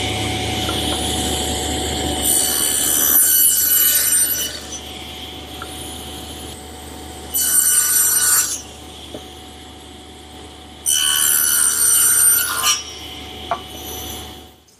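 A table saw cuts tenons in wood pieces, with three bursts of high whining cutting noise over a steady motor hum, each pass lasting about a second or two.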